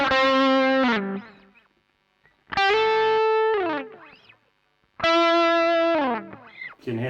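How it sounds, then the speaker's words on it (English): Electric guitar through an overdrive and a delay pedal on a pedalboard, three distorted sustained chords about two and a half seconds apart, each dying into a quieter repeating delay tail with brief string noises between. "You can hear that kind of nice little sort of tail of delay on the tap room."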